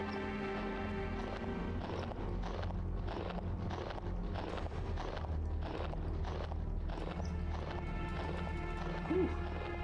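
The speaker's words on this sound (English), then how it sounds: "Really nice footstep sound effects. I like that. I can hear I can feel the crunch." Footsteps crunching in the video game Biohazard: Gun Survivor, an even, regular run of crisp steps about twice a second over steady game background noise, with no voices.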